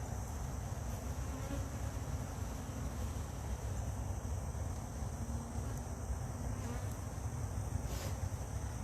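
Honey bees at the hive make a dense, continuous buzz that stays close and constant for several seconds, with no talking.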